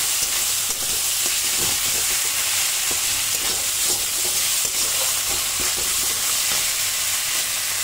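A potato and pointed gourd curry with Kashmiri red chilli powder sautés in a pan with a little water, giving a loud, continuous hissing sizzle and occasional stirring scrapes throughout, close up and without speech.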